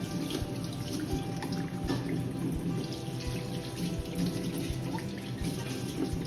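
Tap water runs steadily over herbal tea leaves as they are washed before boiling, a continuous close splashing stream lasting throughout with no voices.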